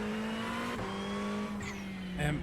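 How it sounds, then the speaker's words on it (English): A Ferrari GT3 race car in iRacing at Circuito de Jerez, engine droning at full throttle with a steady high-pitched whine that shifts pitch around gear changes, loud and close. "And you want to be using all the exit here, and you're going to be full throttle."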